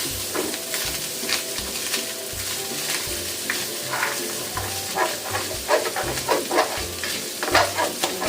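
A little oil sizzles in a cooking pan at the start of sautéed chayote, a steady close hiss broken by clinks and scraping stirs that grow busier toward the end, with no talking.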